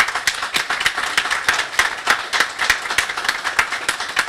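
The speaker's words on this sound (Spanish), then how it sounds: "para quien pido un aplauso por haber apostado" Steady rhythmic clapping from a crowd at a public event in Maldonado, Uruguay, even beats roughly three per second, close and fairly loud.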